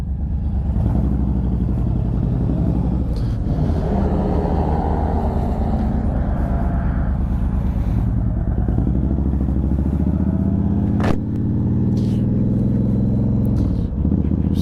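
A 2011 Honda VT1300CX Fury cruiser motorcycle rides off, its big V-twin engine rumbling steadily up close with rising and falling revs through gear changes and a couple of brief clunks, no talk heard.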